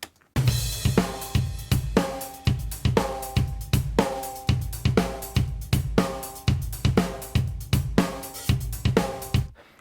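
Drum bus from a rock mix played back dry with no parallel compression, a steady groove of punchy kick and snare hits with cymbals, about two hits per second, loud and upfront with no voices.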